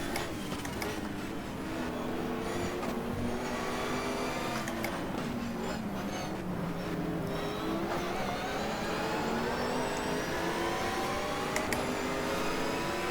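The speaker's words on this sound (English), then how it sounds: "Kind of like the sound of the engine" A Lister race car engine in the racing game GTR2 at the Enna Pergusa circuit drones and whines steadily, with rising and falling pitch through gear changes and a few sharp shift blips, heard alone with no talk.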